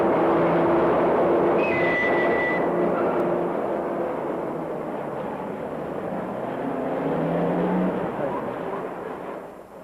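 An elevated railway train in downtown Chicago's Loop rumbles loudly overhead with a steady roar and brief squealing tones that slowly fade as it passes, dense city noise around it.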